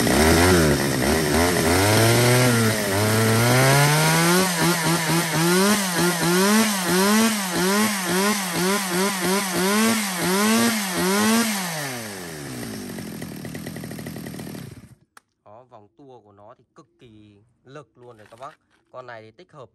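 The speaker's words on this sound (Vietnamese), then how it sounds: "Rồi, test nổ luôn cho các bác xem qua tiếng máy." A used Japanese-market chainsaw of about 5 kg, bar and chain fitted, starts and runs close by: a loud buzzing two-stroke engine that revs up and down repeatedly, then cuts off abruptly, followed by someone talking.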